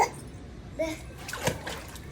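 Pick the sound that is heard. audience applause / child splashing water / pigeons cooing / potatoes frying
child splashing water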